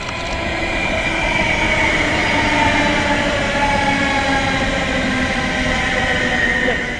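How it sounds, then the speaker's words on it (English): A passenger train, the 14:05 to London Euston, pulls into Birmingham International station with a loud steady rumble of wheels on rails and faint squealing tones, up close and continuous. "1405 to London Euston just arriving"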